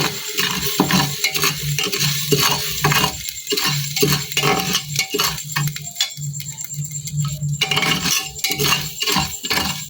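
Rice grains being stirred and dry-roasted inside a pressure cooker, a dense, continuous rattling clatter of grains and a utensil scraping metal in close, rhythmic bursts with a faint sizzle underneath.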